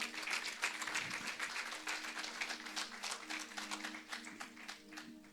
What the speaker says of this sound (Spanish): Yo daría un aplauso ahí.